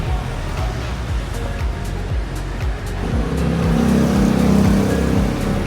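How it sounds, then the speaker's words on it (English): Busy street traffic in Hanoi, Vietnam, with car engines revving and passing close by, a steady motor drone with small scooters buzzing through, growing louder toward the end. "Too many cars and scooters."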